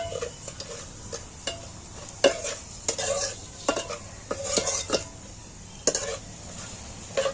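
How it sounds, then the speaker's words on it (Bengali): Whole cumin, cardamom and cinnamon fried slowly on low heat for a village-style mutton curry, heard as a low background sizzle broken by repeated scraping stirs of a spoon against the pan. "ডালচিনি এবার গোটা জিরেটা এবার আমি কম করে জাল দিয়ে এইটা আস্তে আস্তে এইটাকে ভেজে নিব"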